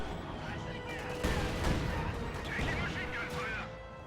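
Mortar fire and gunfire in a World War II real-time strategy video game, a heavy blast followed by scattered crackling shots over a constant battle din, with commentary running over it.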